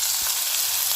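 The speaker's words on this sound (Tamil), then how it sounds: "இதில் வெங்காயத்தை சேர்த்து நல்லா வதக்கிக்கிறோம்" Onions sautéing in a pan for a cluster bean stir-fry, giving a steady, close hiss of frying with a few soft stirring knocks, no voices.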